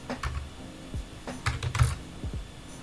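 Keys on a computer keyboard clatter in a short, uneven burst of close, clicky strokes with a few heavier thumps, as a file name is typed in a terminal.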